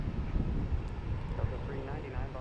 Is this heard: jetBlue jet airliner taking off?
yes